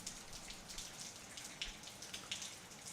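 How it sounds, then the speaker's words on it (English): Heavy rain pours outdoors, with water hitting surfaces in a faint, steady patter and scattered louder drops. "it's pouring rain out here"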